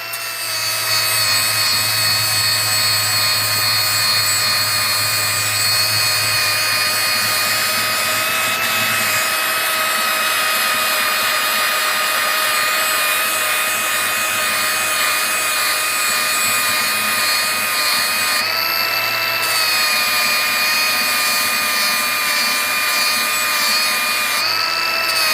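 A power tool grinds steadily on a lawn mower blade from a Lazer Z mower, a loud continuous high whine that holds for the whole stretch with slight wavering in pitch and brief changes in contact.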